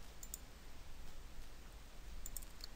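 Computer mouse clicked in QGIS menus, a few faint, crisp clicks near the start and a quick cluster of them near the end over a low steady background hiss.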